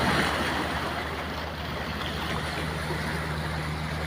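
Continuous roar of rough sea waves and surf, a steady broadband wash with low rumble, likely mixed with wind, no voices.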